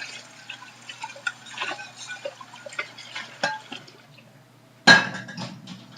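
A pot is rinsed out under running water at a kitchen sink, with soft splashing and light metallic clinks, then one loud clank as the pot is knocked or set down near the end.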